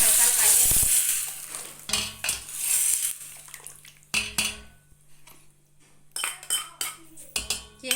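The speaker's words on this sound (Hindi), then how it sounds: "अब इसमें हम लगाएंगे जीरे का तड़का।" Cumin seeds sizzle as a tadka in hot oil, with crackling frying bursts mixed with clinks of a spoon against the pan and stirring, close and moderately loud.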